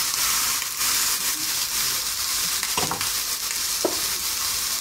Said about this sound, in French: Donc, c'est snacker de chaque côté en vitesse